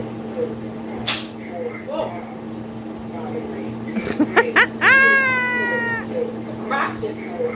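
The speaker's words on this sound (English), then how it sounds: "Cat." A cat meows in a long, rising and wavering call near the middle, close and loud over steady room hum, with people talking around it.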